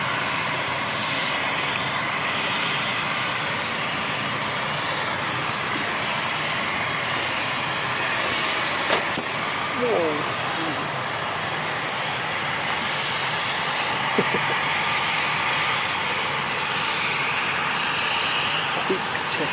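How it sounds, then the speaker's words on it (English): A British Airways passenger plane departs London City Airport, its engine roar a broad steady rumble heard from the ground at moderate distance, with a few brief louder bumps along the way. "It looks like we should have a BA's departure."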